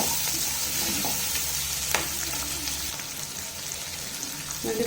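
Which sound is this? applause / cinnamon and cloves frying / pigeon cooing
cinnamon and cloves frying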